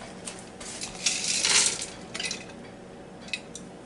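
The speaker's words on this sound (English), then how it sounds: "And then we'll go ahead and dump this onions in." Onions dumped into a Ninja Foodi pot, a brief burst of scraping and clattering against the metal pot with a few light clinks before and after, close and fairly quiet.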